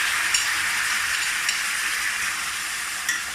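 Tomato poured over browned sausages sizzles loudly in a hot pan, a steady hiss of frying with faint stirring scrapes throughout and no talk.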